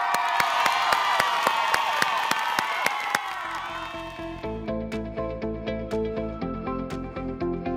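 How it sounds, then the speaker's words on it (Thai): Audience cheering and applause for a child performer on a Thai kids' talent show, a dense crowd roar with sharp claps that fades after about three seconds into rhythmic music with steady beats. "ขอเสียงปรบมือให้กับน้องมะเหมี่ยวครับ"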